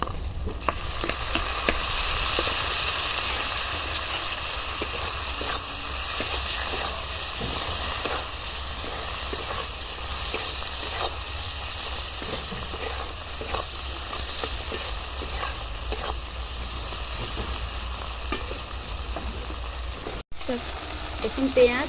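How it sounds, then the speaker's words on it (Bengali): Chopped tomato frying in a pan sizzles and hisses steadily up close, with frequent stirring scrapes throughout and a brief dropout near the end. "আমি ওর মধ্যে টমেটো কুচি দিয়ে দিচ্ছি"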